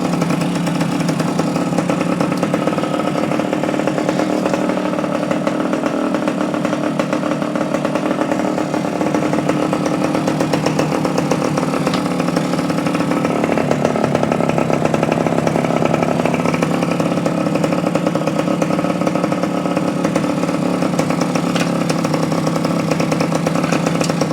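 A 1972–73 Yamaha AT2/AT3 motorcycle engine idles steadily after a carburetor and cable adjustment, a buzzing, raspy drone held close and fairly loud for the whole stretch, its pitch rising slightly midway as the idle is turned up.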